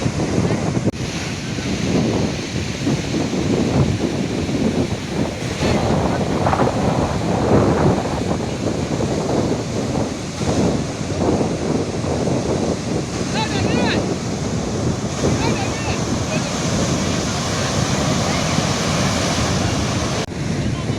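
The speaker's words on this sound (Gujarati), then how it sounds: "મધુવંતી નદી અને માધવપુર દરિયો, અરબી સમુદ્રનું મિલન" Arabian Sea surf at Madhavpur, where the Madhuvanti River meets the sea, with a steady loud roar of breaking waves and heavy wind buffeting the microphone throughout.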